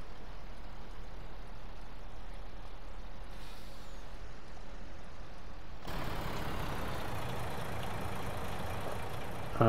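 A tractor or truck in Farming Simulator 19 drives with a steady low engine drone and rumble, growing louder and rougher about two-thirds of the way through.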